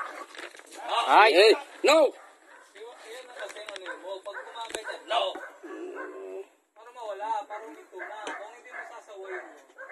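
Police dog barking and yipping during a training session, a few sharp barks near the start followed by softer whimpers, mixed in with people talking over it.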